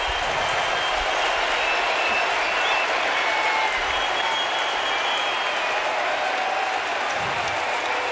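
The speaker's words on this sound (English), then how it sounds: "He'll settle for 6 2/3 and get a big ovation from the crowd at Citi Field." A big stadium crowd at Citi Field gives a sustained ovation during a Marlins–Mets baseball game, a dense, steady roar of applause and cheering that holds loud and even throughout with no breaks.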